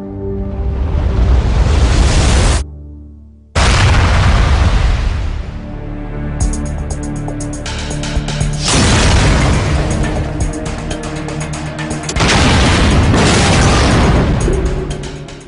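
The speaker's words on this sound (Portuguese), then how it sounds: "Houve experiências progressivas usando-se dinamite a fim de descobrir a extensão dos danos que determinadas quantidades de dinamite provocariam." Dynamite test explosions, a series of loud, deep booms with rolling rumbling tails, one burst after another with a brief silent gap early on.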